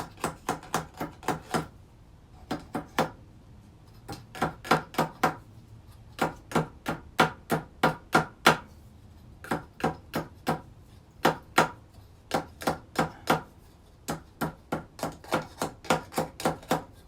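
Rapid bursts of sharp hammer strikes flattening a metal roof gutter, four to six quick blows per group with short pauses between, close and crisp.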